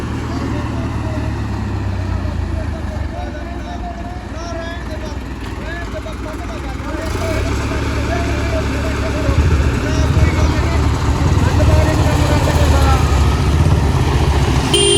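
A 1970 Belarus tractor engine rumbles steadily at idle, then revs up louder partway through and keeps running hard, with people talking over it.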